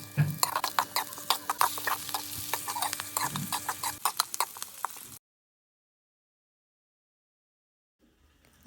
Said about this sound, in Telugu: ఒక మీడియం సైజ్డ్ ఆనియన్, ఒక 2 పచ్చిమిర్చి వేసుకొని బాగా ఫ్రై చేసుకోవాలి